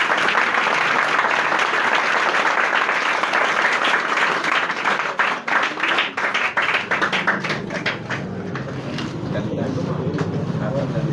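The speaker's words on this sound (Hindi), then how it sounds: "ताली बजाइए आपने।" Audience at a village honoring ceremony in Gahmar claps loudly and steadily, the applause thinning into scattered separate claps before fading out, with a low rumble remaining underneath.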